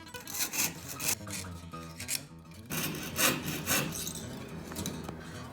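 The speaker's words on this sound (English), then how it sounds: "We're using a number 8/0 saw blade to cut out this 30 gauge backing plate." A jeweler's 8/0 saw blade cuts through a thin 30 gauge metal backing plate with quiet, rapid rasping strokes in an uneven rhythm, close up with no talk.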